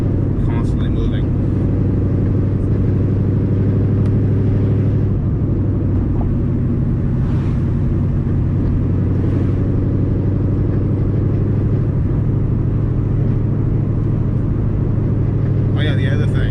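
A 302 stroker Ford Mustang engine drones steadily at cruise in fourth gear, a constant low rumble throughout.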